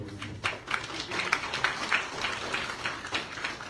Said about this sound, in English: Kindly a round of applause